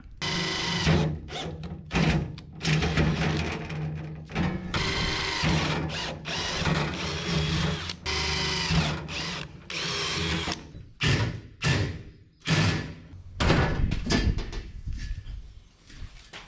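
A power drill whirs in repeated short bursts, spinning up and stopping as screws are driven into a shop add-on, with brief pauses and clatter between runs.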